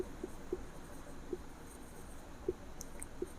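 Chalk or marker writing on a board, faint scattered taps and light scratches spaced irregularly in a quiet room, soft and close, with no talking.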